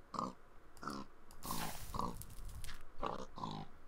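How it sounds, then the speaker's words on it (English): A pig in the TerraFirmaCraft game gives a string of short grunting oinks, about six separate calls spaced unevenly and heard close and clear. No one talks over them. "Oh, hello, pig."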